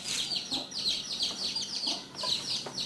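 A chicken clucks close by in a quick run of short, repeated sharp calls with brief pauses between bursts, no voices over it.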